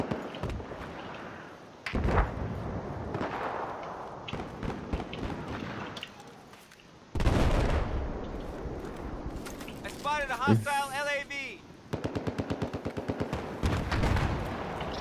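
Repeated gunfire bursts and rapid automatic fire in a Battlefield 4 Conquest match on the Flood Zone map, with sharp, loud shots separated by short gaps and someone talking over parts of it.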